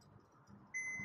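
A Hohem iSteady M6 smartphone gimbal gives a single clear electronic beep after its button is held down, a steady tone starting late and continuing to the end over faint room noise.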